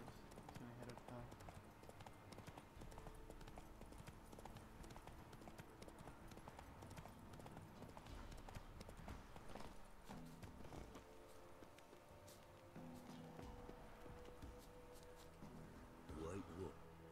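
Roach the horse gallops in The Witcher 3 game, a steady rhythmic clip-clop of hooves carrying on throughout at moderate loudness, mixed with background game sounds and occasional talk.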